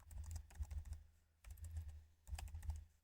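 Typing a terminal command on a computer keyboard, with three close bursts of rapid clicking keys separated by brief pauses.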